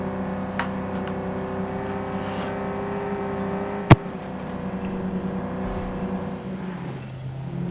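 A car drives in PUBG, its engine humming steadily and loudly with a sharp gunshot-like crack midway and the engine note shifting lower near the end.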